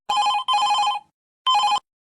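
A telephone rings loudly and close, two long electronic trills followed after a pause by a third, with no voices.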